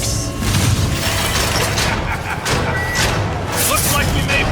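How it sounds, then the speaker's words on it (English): Loud booming fireworks explosions from a Spider-Man video game trailer shown at E3 2018, dense and continuous with heavy low rumble, mixed under voices and action noise. "Just in time for the fireworks!"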